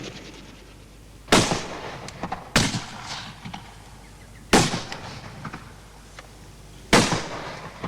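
Four loud, sharp gunshots ring out from a shooting party, spaced a second or two apart, each followed by a short fading tail, with no voices in between.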